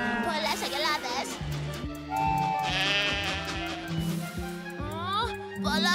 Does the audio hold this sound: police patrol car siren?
no